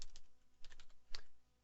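Typing on a computer keyboard: a quick run of soft key clicks, then a pause and another cluster of taps with one sharper click, close and quiet.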